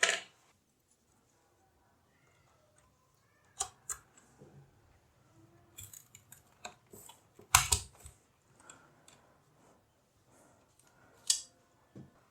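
A DDR4 RAM stick is fitted into a motherboard slot during a gaming PC build, a scattered run of sharp plastic clicks and taps over quiet pauses, with one louder snap partway through, close-up and without talk.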